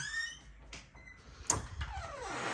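A laundry room door swings open indoors with a short creak and a soft knock midway, followed by a faint rising squeak, all fairly quiet against low room noise.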